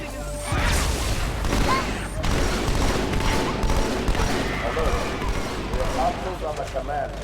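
Heavy automatic weapon fire from Halo 2 Anniversary, loud close bursts rattling almost continuously for several seconds, with someone talking over parts of it.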